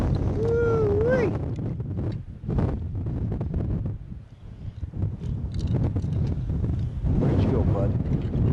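Strong, gusty wind buffets the microphone outdoors at a duck-hunting blind in a high wind warning, with loud low rumbling surges that ease and return, while people talk briefly and a whistle-like call sounds early on.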